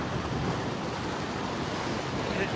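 Ocean surf rolls onto a sandy beach beside rocks, with steady wind buffeting the microphone, giving a constant close rush of noise and no clear individual wave breaks.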